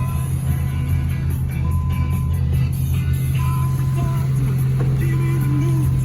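A 1988 Yugo car engine idles steadily with a low, even drone close by, and a faint voice talks briefly over it.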